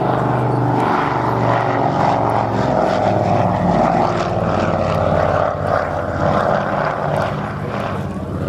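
An Avro Anson propeller aircraft flies at Scampton, its twin engines giving a loud, continuous throbbing drone with a pulsing beat, heard near and alone.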